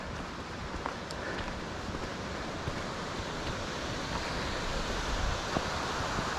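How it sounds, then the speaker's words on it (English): Panther Creek rushing over small cascades and tiny falls in a park, a steady broadband wash of water heard from a distance with light wind, no talking. "I believe that's Panther Creek"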